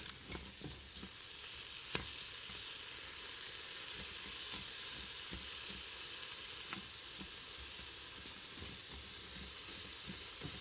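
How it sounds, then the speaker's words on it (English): Sliced lettuce and other vegetables sautéing in an Instant Pot, giving a steady, moderate sizzle with faint stirring taps and a sharp click near the start. "let it saute it until it just becomes translucent."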